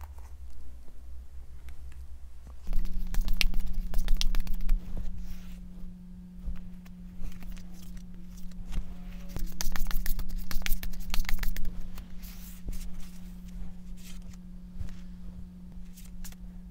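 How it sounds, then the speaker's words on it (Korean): Tarot cards being shuffled nearby in soft, irregular riffles and shuffles, heard over a steady low electrical hum. "카드 셔플 먼저 시작해 볼게요"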